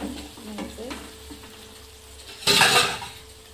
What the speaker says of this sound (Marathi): आता छान असं परतून घ्यायचं आहे।